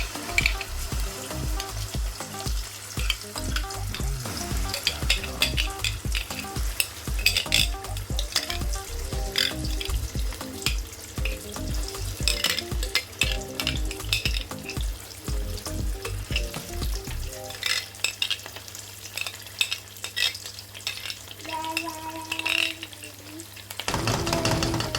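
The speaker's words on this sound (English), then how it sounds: "So in the same oil, I'm gonna be frying my tomato paste." Tomato paste fries in oil with a steady, loud sizzle and crackle, broken by frequent stirring scrapes from start to finish; a voice talks briefly over the cooking.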